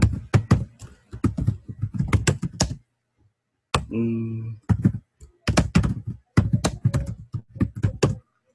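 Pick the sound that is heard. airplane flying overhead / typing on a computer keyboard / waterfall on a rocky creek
typing on a computer keyboard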